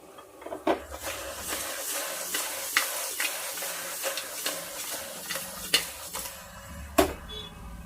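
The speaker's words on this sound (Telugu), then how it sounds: "ఇప్పుడు బాగా కలిపి, అంటే మనం వేసిన ఉల్లిపాయలు, పచ్చిమిర్చి, అల్లం అన్నీ కూడా మొత్తం కర్రీ అంతా కలవాలంటే ఒకసారి అలా డిష్తో తిప్పుకోవడం మంచిది" Onion, green chilli and ginger curry for a country-chicken dish is stirred in a pan with a utensil, giving a steady sizzle broken by repeated scraping clacks against the metal, close and alone.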